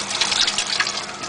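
Liquid pours in a thin continuous stream while orange chicken is being cooked, a short, fairly quiet trickle with no talk over it.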